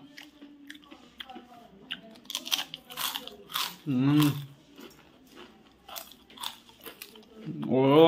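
Someone bites and chews crunchy rashi papad up close, with sharp crackling crunches in bursts and a voice talking between bites.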